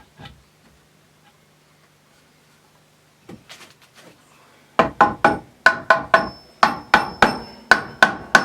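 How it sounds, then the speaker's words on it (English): A few faint scrapes, then a steady run of about fifteen sharp, close hammer blows as dowel-rod furniture parts are knocked together, evenly paced and loud against a quiet room. "this should just hammer onto there"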